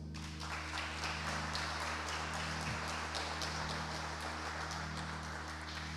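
Church congregation applauding during a Portuguese-language service, a steady wash of clapping held at an even level throughout, with a low sustained hum beneath.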